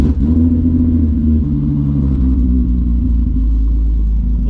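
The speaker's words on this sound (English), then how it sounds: "We haven't had a cold start in the VR6 in quite a while" A Volkswagen VR6 engine, planned for a turbo conversion, idles loud and close after a cold start, a deep, steady burbling rumble with a slight shift in pitch partway through and no talking.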